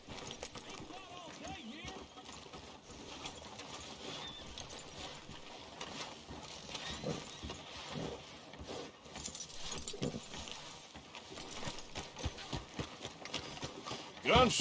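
Horse hooves clop along a town street in a story-driven video game, a steady rhythmic trotting beneath game music and ambient noise, with characters talking over it.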